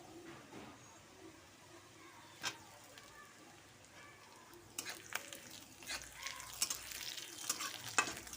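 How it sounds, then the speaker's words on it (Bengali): Onion, garlic and slit green chillies fry in a pan, giving a faint sizzle with occasional stirring scrapes and clinks that grow busier toward the end. "রসুনের সাথে পেঁয়াজটা ভালো হয়ে ভাজা হয়ে গেছে, এর মধ্যে আমি চেরা কাঁচা লঙ্কাগুলো দিয়ে দেব।"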